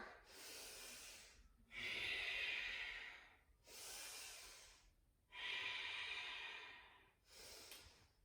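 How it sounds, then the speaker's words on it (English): Slow, deep Ujjayi breathing during a yoga backbend flow: five long, hissing breaths alternating inhale and exhale, each lasting one to two seconds with brief pauses between, close and fairly quiet with no talking. "Deep Ujjayi breaths, breathe into the left hamstrings now"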